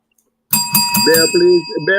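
A few quick bright bell rings sound close by, then a voice starts talking over a lingering ringing tone.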